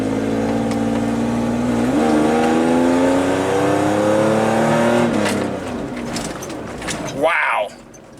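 Third-generation Toyota 4Runner engine revving with a performance chip fitted, a steady loud drone whose pitch climbs and falls across several rises before dropping off, with a voice speaking over it.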